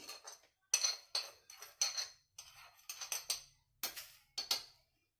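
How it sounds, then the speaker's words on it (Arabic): Metal spoon clinking against a clear bowl while adding citric acid (lemon salt), a series of bright, sharp clinks and scrapes in irregular bursts with short pauses, close and fairly quiet. "هننزل كده بمعلقه ملح الليمون الاول"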